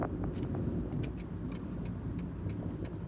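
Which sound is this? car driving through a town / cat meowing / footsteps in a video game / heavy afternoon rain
car driving through a town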